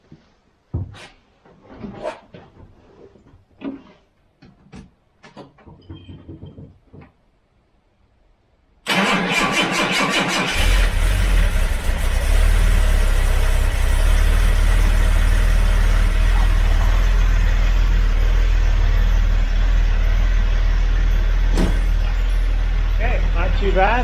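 A Jaguar XJ6 with a new engine and freshly topped-up waterless coolant cranks briefly, then fires and settles into a loud, steady idle that fills the rest of the stretch, after a few quiet handling noises.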